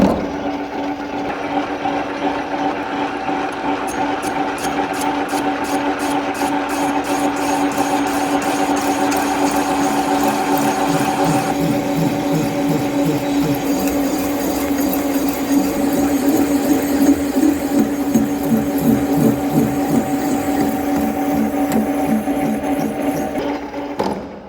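A Kitchen & Walker horizontal facing boring machine runs a cut, a loud continuous machining drone with steady tonal whine and rhythmic chatter throughout, close and without speech.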